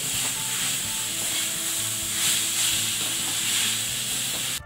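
Grated pumpkin sautéing in ghee in a pan, a steady close hiss and sizzle with soft stirring scrapes throughout.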